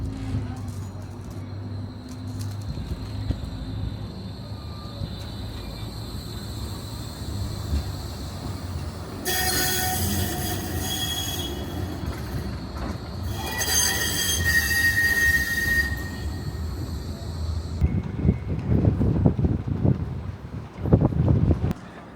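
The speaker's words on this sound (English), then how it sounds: "riding the new Blackpool Tram Extension from Tower Tram Stop to North Station" A Blackpool tram rumbles steadily along its rails, with bursts of high metallic wheel squeal partway through, then heavier clattering near the end.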